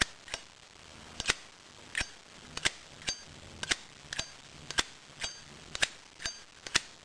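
A high polish chrome Zippo lighter lid clicked open and shut over and over, sharp metallic snaps in a loose steady rhythm with barely any ring, close by and fairly quiet.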